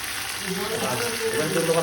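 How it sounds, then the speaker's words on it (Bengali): Onions fry in a pan with ginger-garlic paste just added while cooking a Bengali red chicken curry, producing a continuous close sizzle with faint stirring, and a voice speaking softly underneath. "এর মধ্যে আমরা আদা রসুনের পেস্টটা দিয়ে দিচ্ছি"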